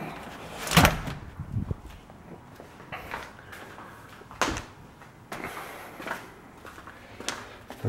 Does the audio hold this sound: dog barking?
no